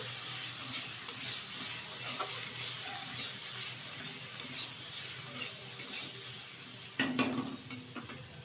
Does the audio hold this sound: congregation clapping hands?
no